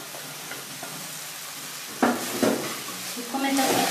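Ground tomatoes with Maggi masala stirred in a frying pan for egg fried rice, quiet at first, then soft sizzling and scraping strokes of a spoon in the second half, close up.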